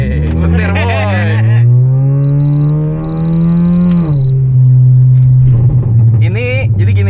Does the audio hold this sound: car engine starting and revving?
yes